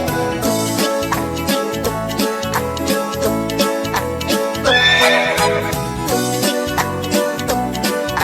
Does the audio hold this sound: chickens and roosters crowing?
no